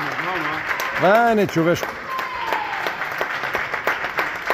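Applause and clapping at the end of an under-16 youth futsal match, a dense run of sharp claps under steady nearby talking and crowd voices.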